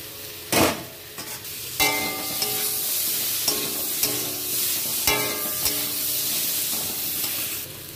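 Pumpkin and potato pieces sizzle steadily in a pan for a vegetarian dish cooked without spices. A spatula scrapes and stirs at intervals with sharp clacks against the pan, close and loud, with no talk.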